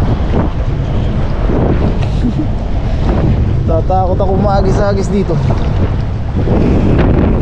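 Strong wind buffeting the microphone by the water in a continuous loud rumble, with someone talking briefly over it.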